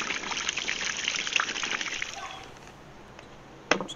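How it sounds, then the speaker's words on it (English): Running tap water splashes steadily as two bowfin fish fillets are rinsed, a continuous trickle that drops off near the end, followed by a short sharp knock. "Just go ahead and wash off both fillets"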